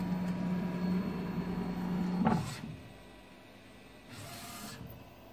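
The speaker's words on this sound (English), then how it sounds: "So it means the flatbed, the printer is working well." A Vocano-jet Pro A3 UV flatbed printer runs, its motor humming steadily before a carriage slide and soft mechanical whirs, then a quieter pause and another brief sweep of movement, all close and without speech.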